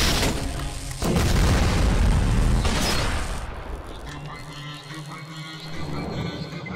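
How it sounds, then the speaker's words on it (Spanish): Bomb blast in a Skibidi Toilet animation: a loud booming explosion erupts about a second in and rumbles for a couple of seconds before fading into lower mechanical noise. "¿Qué está golpeando el techo? ¡Oh! Una bomba."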